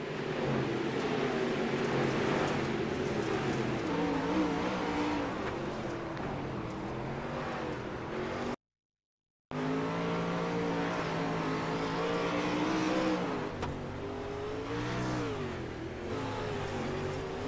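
Race cars in the ESRA Pro Series sim race at Indianapolis drone and accelerate through a continuous engine whine that rises and falls in pitch. Sound cuts out briefly midway before the engines return.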